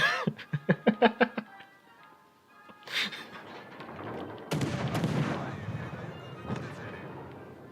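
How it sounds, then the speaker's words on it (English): Ship guns firing in World of Warships: Legends, first a quick rapid burst of sharp reports, then after a pause heavier booming salvos with rumbling tails, and voices faintly mixed in. "The guns are firing."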